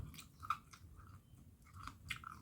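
Crunchy chewing of crispy deep-fried shellfish, close and fairly quiet, a few sharp crackly bites over soft mouth sounds with no talking.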